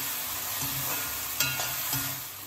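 Spices, green chili, dried coriander and black salt being stirred in a hot pan, a soft steady sizzle with a few light scraping strokes from a spoon, with no talking.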